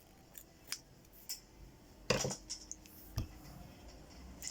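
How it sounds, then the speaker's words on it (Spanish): Scissors snip through knitting yarn while a small knitted bear is being made: several crisp, close cuts at irregular intervals, one louder double snip in the middle, over faint room hiss. "Cortamos el hilo, dejen un extremo suficiente."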